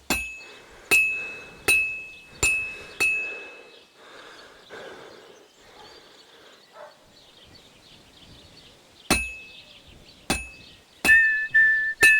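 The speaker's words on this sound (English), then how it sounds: "I have to hammer it more evenly." Metal is hammered at a blacksmith's forge in Kingdom Come Deliverance II, with sharp ringing anvil strikes in an uneven rhythm, a burst of about five blows, a quieter pause, then another run of loud clangs.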